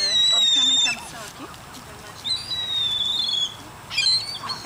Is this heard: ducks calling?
yes